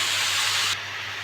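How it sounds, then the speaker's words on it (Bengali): Banana flower and potato fry with spices in a pan, producing a bright hiss that is loud at first and then drops to a softer, steady sizzle. "আমি এবার মোচা আর আলুটা দিয়ে দেবো, এটা নেড়ে চেড়ে নেবো, নিয়ে ভালো করে ভাজবো।"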